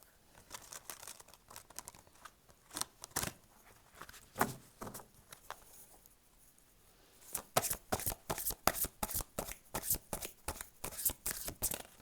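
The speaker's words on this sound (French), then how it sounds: "Je vais compléter le tirage avec le tarot des flammes jumelles." Tarot cards riffled and shuffled by hand, papery flicks and soft slaps coming in dense rhythmic bursts, near and clear, with no talking.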